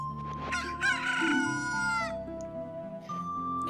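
A video-game chicken item lets out a loud, drawn-out rooster crow, a single cock-a-doodle-doo heard close and alone.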